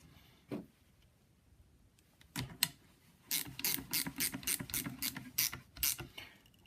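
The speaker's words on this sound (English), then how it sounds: "we put the cup so the cup is facing down so it grips onto the blade, and we" A ratchet wrench tightens the bolt on a Pillar Tools lopper blade fitted with a cup washer: a short click, then a brief burst, then a steady run of close, sharp ratcheting strokes.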